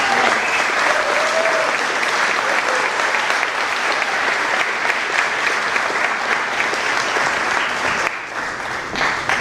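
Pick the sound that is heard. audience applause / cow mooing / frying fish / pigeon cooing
audience applause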